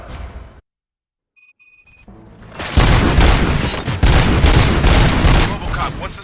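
Robots open fire in a burst of gunshots and heavy booms that erupts after a brief silence and some electronic beeps, loud and sustained for several seconds.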